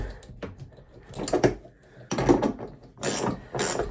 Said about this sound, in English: But I'm gonna have to try and tighten this tap up.